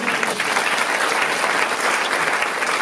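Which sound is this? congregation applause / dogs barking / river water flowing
congregation applause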